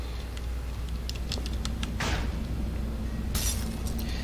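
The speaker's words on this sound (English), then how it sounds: "When we break the glass" Glass breaking in the video game Portal 2, with a burst of shattering near the middle and scattered tinkling fragments before and after over a steady low background hum.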